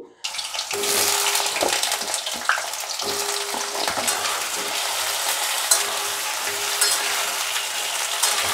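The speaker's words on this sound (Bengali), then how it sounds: "একটু লাল করে আলুগুলো ভেজে নিতে হবে" Steady crackling sizzle of potatoes frying in hot oil, continuous throughout with occasional clinks of a utensil against the pan.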